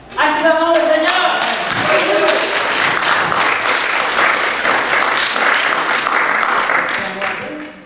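A church congregation applauds and cheers in praise during a French-language healing service, with loud, sustained clapping and crowd noise that fills the room steadily before tapering off slightly at the end.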